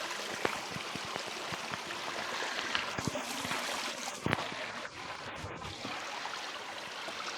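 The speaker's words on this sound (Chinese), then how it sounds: "这里的水流非常的湍急，溪水啊非常的清澈" A fast-flowing, clear mountain stream rushes steadily nearby, a dense, even wash of water with a few small splashes and knocks, and no speech.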